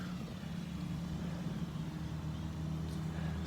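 A 2018 Nissan Rogue SL Platinum running after a remote start, a steady low engine idle heard from outside the car, with no voices.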